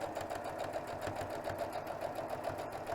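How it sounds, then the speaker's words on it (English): A sewing machine stitches fabric for a throw pillow case in a fast, steady, close mechanical whir with a rapid rhythmic clatter, continuous throughout with no talk. "And we're going to sew all the way down."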